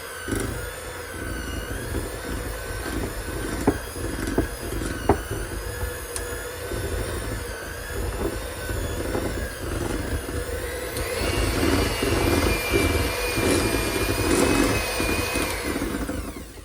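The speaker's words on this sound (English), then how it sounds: "we're just going to take our mixer, try to get out of the way, and we're just going to mix it all together" An electric hand mixer whirs steadily through pumpkin cheesecake filling in a bowl, a loud continuous motor whine with rhythmic beater knocks, rising in intensity toward the end before cutting off.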